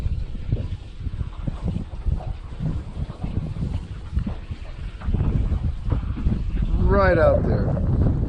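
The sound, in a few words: strong wind blowing outdoors while trout fishing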